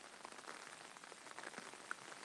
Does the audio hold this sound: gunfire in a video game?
no